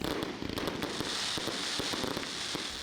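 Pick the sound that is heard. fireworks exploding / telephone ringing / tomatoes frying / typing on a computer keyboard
fireworks exploding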